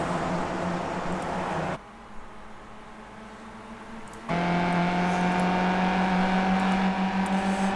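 A tight pack of race cars runs close together at Brands Hatch, engines droning loudly, easing off briefly, then surging back into a strong sustained roar with steady high-pitched tones.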